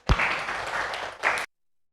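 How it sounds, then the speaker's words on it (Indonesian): Brief round of applause from a classroom of students, a sharp first clap followed by about a second of steady group clapping, a short burst, then an abrupt stop into silence. "Kasih tepuk tangan dulu untuk semua."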